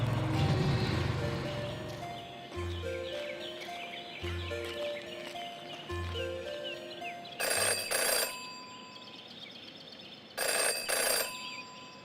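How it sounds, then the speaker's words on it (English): An old telephone bell rings in the Jenny LeClue video game, two long bursts of rapid metallic trilling over a plodding musical score with low pulsing notes. "Jenny had learned never to ignore a ringing phone."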